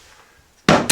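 Wooden wall boards being pried loose between studs during a home renovation, a near quiet stretch broken by two sharp, loud knocks of wood in quick succession at the end.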